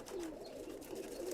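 Male churail-breed pigeon cooing, a few faint low coos repeated in a slow rhythm over quiet background hiss.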